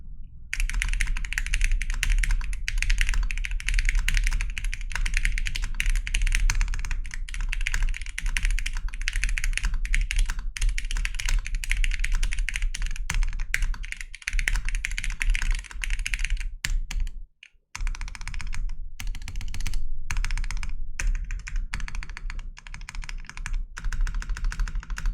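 Rapid typing on a mechanical keyboard, dense deep-toned clacks in a continuous stream with a brief pause near the end.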